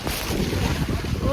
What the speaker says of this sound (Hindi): इतनी तेज़ हवा चल रही है और बारिश हो रही है